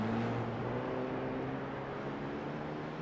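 A 4-cylinder Clio Cup race car in the iRacing game drones steadily at high revs, with a continuous engine tone and faint shifts in pitch and no voices.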